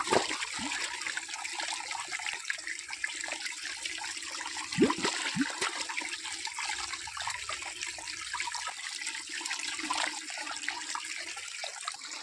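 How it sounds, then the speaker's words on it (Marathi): Tap water flowing steadily in a Maharashtra village, a continuous splashing gush heard nearby throughout, with no talk over it. "हा पाण्याचा आवाज बघा किती छान वाटतोय."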